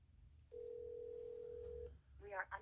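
A telephone ringback tone sounds on an outgoing call: one steady, unbroken tone lasting over a second, fairly clear over a quiet line. A brief burst of voice follows afterward.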